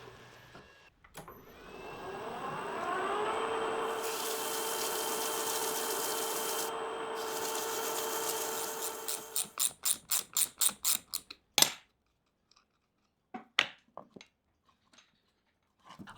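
Brass ship's wheel hardware is rubbed on 120 grit sandpaper, first a long steady close rasping scrub, then a run of quick back-and-forth strokes that speed up before stopping, followed by a few scattered light scrapes and taps.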